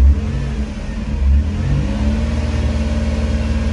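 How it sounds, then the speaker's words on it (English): Car engine revving steadily while parked with an electrical fault, near and loud, a continuous low rumble holding high revs with a brief surge near the start and no talk. "he just wants me to rev my engine for a little bit"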